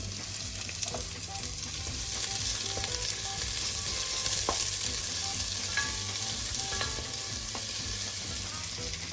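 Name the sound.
shallots sautéing in hot olive oil in a pot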